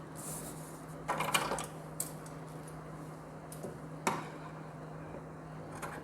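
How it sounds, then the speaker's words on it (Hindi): Scissors cut fabric for designer sleeves: a few sparse, crisp snips spaced seconds apart over a quiet, steady background hum. "अब यहाँ से हम इसकी कटिंग करेंगे यहाँ तक।"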